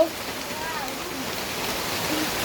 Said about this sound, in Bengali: আর এদিক প্রচন্ড বৃষ্টি হচ্ছে, প্রচন্ড বৃষ্টি হচ্ছে